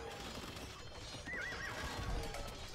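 A horse whinnies briefly amid the clatter of hooves from knights in the strategy game Age of Empires, set against a low, busy battle background.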